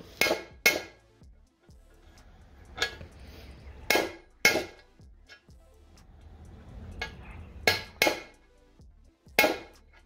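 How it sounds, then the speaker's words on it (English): Sharp metallic hammer blows ring out in loose pairs, spaced a second or two apart, preloading a Ford Focus limited-slip differential and transmission, with quiet clinking and shuffling between strikes. "Got the 20 banger out. It actually works better than the other hammer I got."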